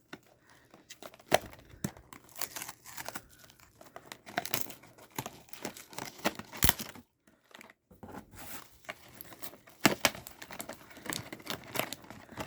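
A figure blind box is torn open, with plastic crinkling and tearing close up. The crackles come in uneven bursts with a brief pause midway.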